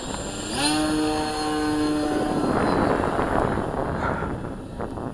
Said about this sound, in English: We'll run the throttle up until it starts to do something, and then we'll go to full throttle.